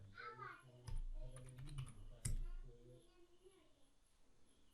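Password being typed on a computer keyboard while setting up a Windows Server 2019 Core machine, heard as a short burst of close, quick key clicks with a couple of louder presses mid-clip, amid faint low background sound.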